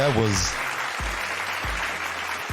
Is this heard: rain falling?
no